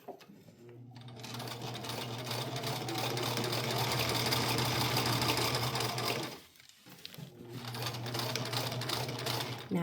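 A sewing machine stitches elastic onto a cloth diaper, its steady close motor whir and rapid needle patter running continuously, pausing briefly near the end before resuming.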